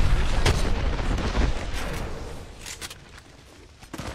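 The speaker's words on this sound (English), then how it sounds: "Oh, what a grenade." A grenade explodes in a shooter video game, with a heavy low boom at the start followed by a rumbling, crackling tail of gunfire-like blasts that slowly fades.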